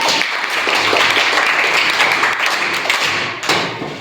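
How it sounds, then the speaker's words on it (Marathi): A room of children claps for a student answering in a primary school quiz, a close burst of scattered hand claps that carries on steadily and then thins near the end. "अर्थमेसाठी परत एकदा टाळ्या"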